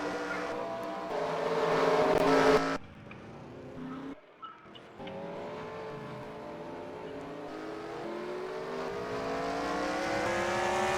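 Race cars in a Piston Cup racing video game pull out of pit lane, engines droning with rising, sweeping pitch and a brief loud burst early on, steady and fairly close with no talk.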